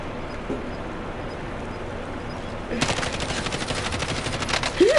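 Hip-fired automatic gunfire in a video game arrives as a sudden rapid burst of shots midway, continuing in a fast stuttering stream over a quieter background.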